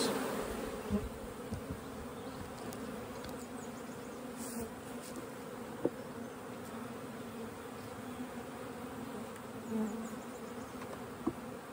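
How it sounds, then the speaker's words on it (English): Steady buzzing of many bees, a continuous droning hum close by with occasional louder passes of individual insects. "Bees."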